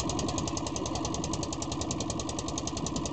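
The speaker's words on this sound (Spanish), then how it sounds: "Allá se acerca una lancha" A motorboat off the coast at Paita, Peru, approaches with a steady, loud knocking engine chug that pulses evenly throughout, no talk over it.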